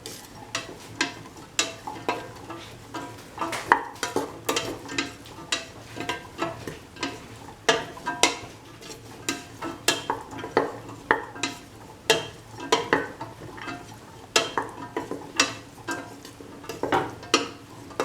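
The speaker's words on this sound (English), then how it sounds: "Thoroughly mix the salt with the cauliflower." Cauliflower is stirred with salt in a pan for a scrambled egg and cauliflower stir fry, with repeated sharp scraping and clinking strokes of a utensil against the pan in an uneven rhythm over a faint sizzle.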